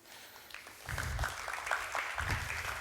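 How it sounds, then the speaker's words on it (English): A conference audience breaks into applause that swells after a quiet start and keeps going, moderately loud with scattered individual claps. "please give a big round of applause for Dave."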